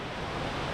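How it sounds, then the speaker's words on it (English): Bridal Veil Falls in full, strong flow gives a steady, dense roaring rush of falling water, close and even throughout with no voices. "we've made it to the waterfall and it's going quite strongly today"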